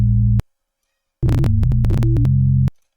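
EEG signals turned into synthetic sound: a short steady buzzing tone, a pause, then a loud run of quickly shifting pitched tones ending in a sustained buzz.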